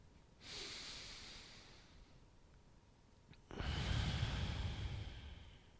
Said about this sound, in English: So really deep, big, mindful breaths to help open up here.